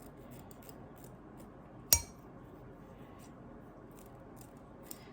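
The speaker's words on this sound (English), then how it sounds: "so I'm going to cut the corners. Just cut them off." Scissors snip the corner off a plant pot in a single sharp, close click, followed by a faint tick a few seconds later over quiet room tone.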